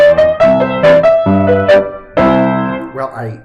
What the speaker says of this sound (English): the opening there of The Entertainer by Scott Joplin sounds as a minor sixth.